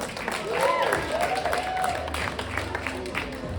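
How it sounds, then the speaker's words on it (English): An audience at a poetry reading claps and cheers in a sustained burst of applause, with voices rising over the crowd noise. "One last round of applause for J. Bruce Fuller."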